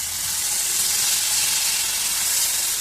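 Strained tamarind water hits hot oil for puli inchi, a loud continuous hissing sizzle that holds steady throughout.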